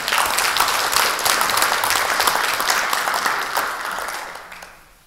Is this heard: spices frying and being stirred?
no